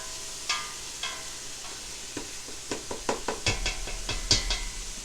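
Sizzling vegetables caramelizing in a pot for Appalachian beef and vegetable soup, with a steady fry hiss broken by scraping stirs and clinks of the utensil, close and clear with no talking.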